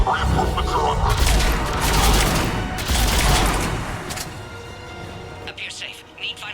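Gunfire and explosions during an attack in the Mass Effect 3 video game, loud dense bursts of shots and booms rolling over a rumbling background, with talk heard between the blasts.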